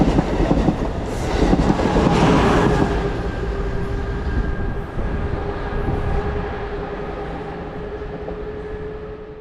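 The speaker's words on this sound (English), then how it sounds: "Amtrak Acela 2257 coasts by on track number 3" Amtrak Acela trainset 2257 coasting past on track 3 at a station, a loud rumbling rush with rail clatter and a steady high wheel whine, swelling early then slowly fading as it rolls away.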